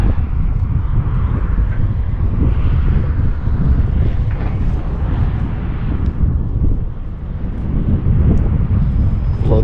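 Heavy wind buffets the microphone on a windy day while an RC Sbach stunt plane flies. A loud, continuous low rumble carries a faint motor whine underneath.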